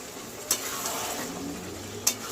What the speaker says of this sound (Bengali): নেড়ে চেড়ে মশলার সাথে কিন্তু ভালোভাবে মিশিয়ে নিচ্ছি